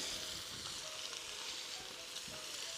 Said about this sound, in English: Right now we just have our onions in here cooking.